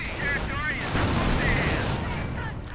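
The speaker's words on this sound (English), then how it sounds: "getting pelted with machine gun fire" Machine gun fire in a WWII strategy video game: continuous rattling bursts and distant booms at moderate loudness, with background chatter and game sounds mixed in.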